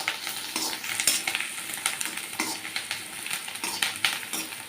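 Egg rice sizzles in an oiled pan while a utensil stirs and scrapes it in steady repeated strokes, close and clear with constant frying crackle underneath and no talking.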